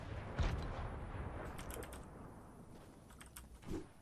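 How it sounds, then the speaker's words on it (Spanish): A computer keyboard tapped during a Fortnite match: faint, scattered key clicks over a dense low game rumble, with a sharper thump early on and a muffled burst near the end. "Si se escucha mucho el teclado, me lo decís"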